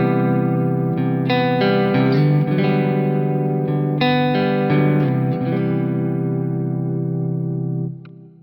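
A distorted electric guitar plays through Quad Cortex Soldano and Fender amp models divided by a crossover split, letting out a few ringing chords and notes with reverb before fading out near the end, alone with no speech.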